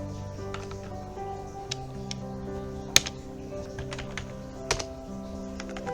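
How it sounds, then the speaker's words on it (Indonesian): Typing a command on a computer keyboard, a close run of light key clicks at an uneven pace, with a few sharper taps standing out over a low background hum. "Kita ketikkan perintahnya"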